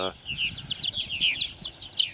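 Purple martins, mostly young birds with a few second-year adults, call in the evening at Center Moriches, Long Island, New York: a steady stream of high chirps and warbling twitters from several birds over low background rumble.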